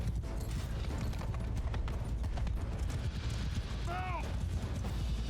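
Rapid hoofbeats of galloping cavalry horses in Mount & Blade II: Bannerlord pound continuously amid a busy battle din, with clanking and a brief whistling swoop near the end.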